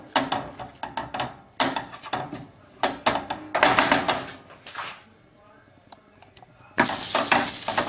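Fish pastilla filling being stirred together with Chinese vermicelli, with repeated close scraping and sloshing strokes in bursts, a brief quieter pause, then a loud sizzling wash at the end.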